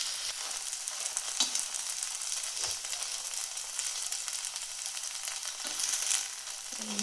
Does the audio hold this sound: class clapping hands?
no